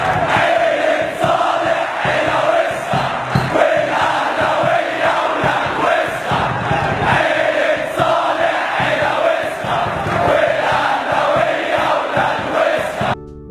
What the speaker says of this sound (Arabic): وده الجمهور مدعي المثاليه وهو بيشتم صالح سليم